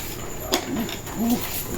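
A bird just unboxed after long-distance shipping gives a few soft, low, coo-like calls, faint and brief against quiet background noise.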